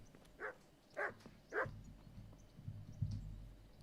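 Three distinct barks from a dog in the video game Kingdom Come: Deliverance, spaced evenly about half a second apart, followed by low rumbling background ambience.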